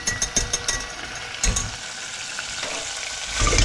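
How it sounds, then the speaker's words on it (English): Pork sizzles and spits in a hot pan, a steady close crackle with occasional metallic clinks and stirring scrapes, no one talking. "That's sizzling away in there."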